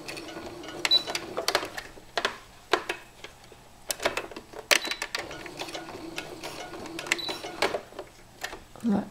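A sewing machine with a Teflon presser foot stitches a wolf coin-purse bracelet in short stop-start bursts, pausing often between runs of close, rapid clatter.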